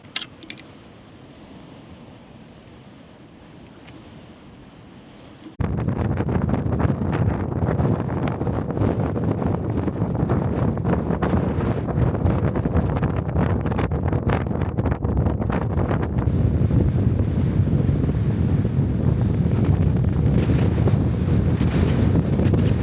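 Quiet at first, then strong wind suddenly roars across the microphone on the summit of Great Dodd, a loud, continuous buffeting rush that lasts to the end.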